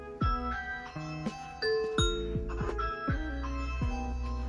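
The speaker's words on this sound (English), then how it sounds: "You can choose different doorbell sounds." A bright electronic chime from a Ring smart doorbell through an Echo Show 8 plays a melodic ding-dong tune of several ringing tones, clear and close, with no talking.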